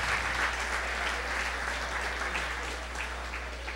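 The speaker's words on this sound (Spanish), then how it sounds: "damos un aplauso en señal de reconocimiento esta mañana" A church congregation applauds during a Sunday morning service, a soft steady patter of clapping over a low constant electrical hum.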